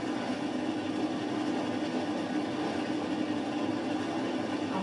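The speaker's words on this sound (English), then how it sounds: "It's an absolutely huge engine. It's a huge train, look, goes all the way past the back of the station." Class 33 diesel locomotive in green livery on the Darlington to Saltburn line, a steady loud rumble of the engine and rolling train holding constant throughout, with no talk.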